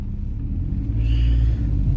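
A pickup-style car pulling away in first gear on a road rumbles loudly and close, its engine note building slightly partway through a short burst with no voices.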